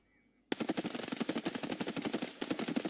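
An AKMN rifle in Escape from Tarkov fires on full auto after a short quiet lead-in, a loud, rapid, even stream of shots lasting a couple of seconds with a brief hitch near the end.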